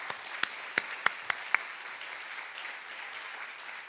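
A church congregation gives applause of encouragement to the evangelism director as he comes forward: steady, fairly soft clapping from many hands, with a few sharper, louder claps standing out near the start.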